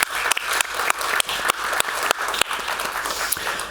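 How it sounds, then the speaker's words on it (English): Sustained audience applause fills a hall at a Web3 education and coding panel event, dense and steady clapping from a sizable crowd lasting the whole few seconds. "giving them a proper round of applause and welcome them properly"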